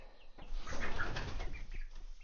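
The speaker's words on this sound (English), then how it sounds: "now that I got these chickens in here" Young chicks in a new coop scuffle and flap their wings, with soft fluttering bursts and a few faint peeps, close by and fairly quiet.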